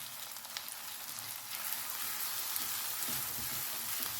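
Green peas cooking dry over low heat in a non-stick pan for a sweet peas nimona gravy, giving a soft, steady sizzle and crackle with faint pops, slightly louder in the second half, no voices.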